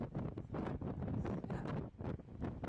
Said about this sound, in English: that was Nanda body slamming into that wave